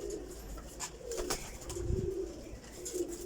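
Near, steady cooing from a flock of Kasuri pigeons of the Teddy Golden type, overlapping low warbles rising and falling, with light clicks and a faint flap partway through and no speech.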